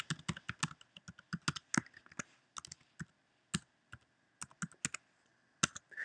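Computer keyboard typing as a name and email are entered during software activation, quick irregular bursts of key clicks with brief pauses, close and clear, no talking.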